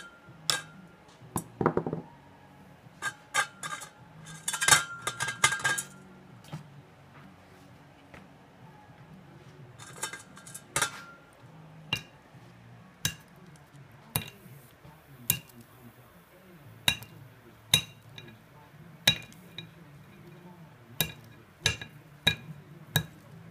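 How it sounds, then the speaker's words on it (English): Glass slag being chipped and broken off a smelted gold bead: a long series of sharp, bright clinks and taps, sometimes clustered and sometimes spaced about a second apart, close and fairly quiet with faint background noise. "and then I'll bust off that glass"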